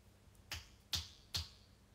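Three crisp finger snaps, spaced roughly evenly, each a sharp close click against a quiet background with no talking.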